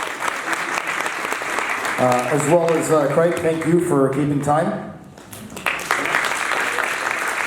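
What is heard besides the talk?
applause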